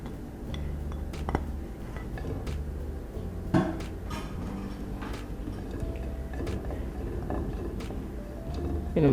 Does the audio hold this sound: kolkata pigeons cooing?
no